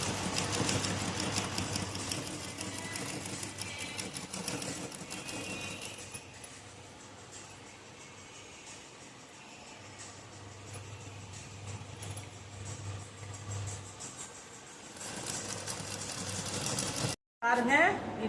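Sewing machine stitching waste cloth into a door mat, a steady close mechanical whir running almost the whole time, with a voice talking over it.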